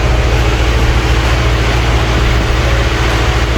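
A C8 Corvette engine runs at a steady idle, a loud, continuous low rumble with no talk over it.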